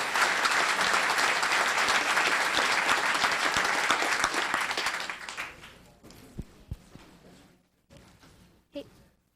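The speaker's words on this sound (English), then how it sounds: "Let's give a round of applause to Ms. Claire Strickland." A town council meeting audience applauds loudly and steadily for several seconds, then the clapping fades out into scattered thumps and small noises in the room.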